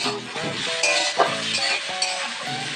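Snake gourd frying with green chillies in a pan, a steady close sizzle broken by clinks and scrapes of a utensil stirring against the metal, with background music running throughout.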